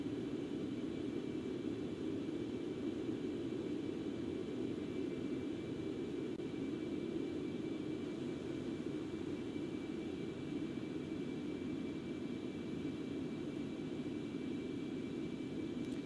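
Simulated Concorde jet engines in X-Plane 11 hum as a steady, low rumbling drone after being throttled back during descent, a constant cabin-like roar with a faint high tone above, no talk.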